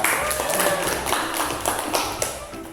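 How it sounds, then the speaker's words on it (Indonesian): A classroom group applauding the presentation of a student team, a brief patter of claps from several people mixed with murmuring voices, moderately loud and uneven. "kita kasih aplaus juga untuk kelompok 3"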